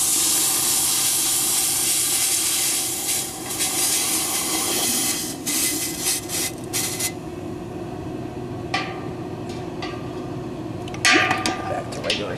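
Hot metal from a solar-heated zinc melting pot dropped into a pot of water, giving a loud, sustained hiss that fades and sputters over several seconds, with a few faint clinks and knocks toward the end.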